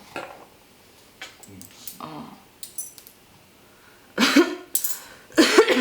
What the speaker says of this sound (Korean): 이 마른 기침이 자꾸 나요